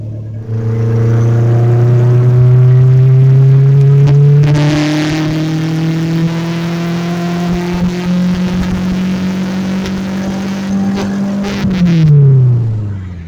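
A repaired turbocharged car engine runs steadily and loudly up close, its drone climbing slightly in pitch before settling and then dropping near the end, with a whirring hiss over the top.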